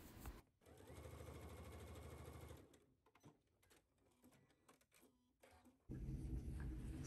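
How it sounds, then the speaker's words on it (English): Sewing machine stitching the seam of a pocket sack on a McCall's M8380 garment, running in a steady loud whirring burst, pausing with stop-start stitches and light handling noises, then speeding up again at the end. "I'm going to continue sewing down that seam."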